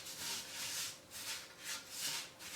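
Aquarium sand for a 10-gallon saltwater tank being smoothed by hand, a soft gritty rubbing that swells and fades in several slow strokes, close and steady with no talk.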